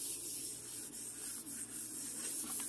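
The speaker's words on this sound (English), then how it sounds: "Usually I just wipe the counters down" A cloth wipes across a kitchen counter in steady, swishing circular strokes, soft and close, with no talking, cleaning up food particles.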